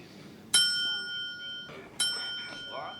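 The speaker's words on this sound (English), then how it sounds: "Oh, you gave him the bell?" A hand bell rung by Hector in Better Call Saul, two sharp metallic dings about a second and a half apart, each ringing out over quiet room tone.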